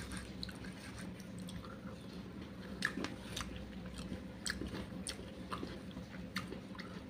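Someone eats a mouthful of khichuri mixed with meat curry gravy and onion, producing quiet, close, wet chewing with soft intermittent bites and squishes. The chewing is faint and stays steady throughout, with no talking.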